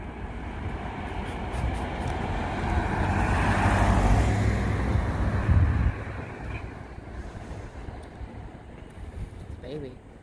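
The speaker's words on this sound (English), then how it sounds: "Just, you know, Republic traffic." Road traffic in the small town of Republic: a vehicle's broad rumble swells as it passes close by, peaks, then drops away into a quieter hum of more distant cars.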